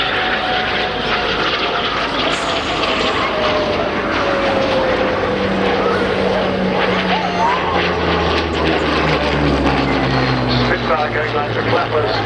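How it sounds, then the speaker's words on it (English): A Spitfire flies past at the Cosford air display, its engine roar loud and continuous, with a falling pitch as it passes, while a commentator talks over it. "Spitfire going like the clappers."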